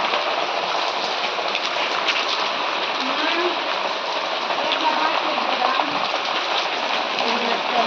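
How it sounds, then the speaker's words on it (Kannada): Heavy rain pours down during Diwali at a family home, a loud, dense and unbroken downpour close by that holds steady throughout. "ಇಲ್ಲಿ ತುಂಬ ಮಳೆ ಬರ್ತಾ ಇದೆ"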